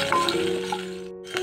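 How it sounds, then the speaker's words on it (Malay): Shallots stir-fried in a pan while cooking squid, giving a steady close sizzle with light clinks of a utensil against the pan. "masukkan bawang merah. Sama macam tadi, kita tumis sehingga naik bau dan sedikit kering"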